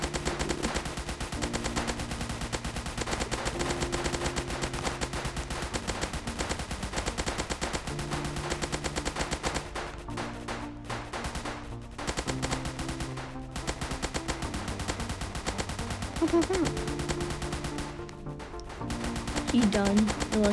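Gunfire at zombies in a zombie-attack video game, rapid repeated shots in dense bursts over continuous game music and effects, loud and sustained for the whole stretch with brief gaps.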